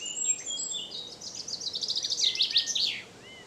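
A chaffinch sings a bright trilling phrase ending in a flourish, with a blackbird, a whitethroat and a blackcap chirping around it in a quiet outdoor setting.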